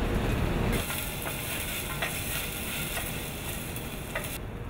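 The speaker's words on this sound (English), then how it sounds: "And you hear that sizzling, that's perfect." Onions sizzle loudly in a hot pan, sweating before arborio rice is added, a dense continuous crackle with occasional scraping from stirring, close up and without voices.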